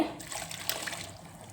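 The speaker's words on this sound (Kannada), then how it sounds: "ಇನ್ನೊಂದು ಸ್ವಲ್ಪ ನೀರು ಹಾಕೊತೀನಿ ಇದಕ್ಕೆ" Water poured into a pot of cooking greens for a Gowda-style bassaru, a steady close trickle and splash running through the short moment with no talk.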